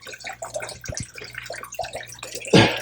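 Water from an aquarium canister filter inlet drains and trickles into a storage container, with gurgling splashes and drips that swell into a louder gush near the end.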